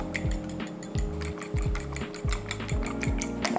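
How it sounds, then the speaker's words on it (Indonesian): Eggs with a little salt are beaten with a utensil in a bowl, making rapid rhythmic clinking and tapping strokes, close and steady, with no talking. "Kita kocok sampai rata"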